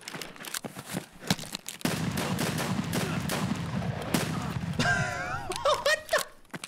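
Gunfire in Escape from Tarkov cracks out in rapid bursts of sharp, close shots over a rumbling background, with a voice breaking in briefly near the end.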